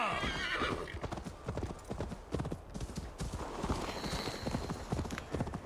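Video game sound: horse hooves clop steadily at close range, with a horse neighing partway through and faint voices in the background, in Assassin's Creed: Valhalla.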